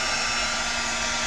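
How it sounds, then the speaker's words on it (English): A heat gun blows steadily close by while drying chalk paste on a craft project, a loud continuous whooshing hum with a faint tonal whine, running alone without pause. "I'm going to use my heat tool and dry this a little bit"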